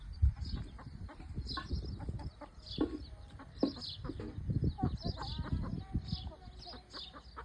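A hen clucks repeatedly in a village yard at Atpadi, giving short close calls in an irregular rhythm while a child and an adult talk nearby.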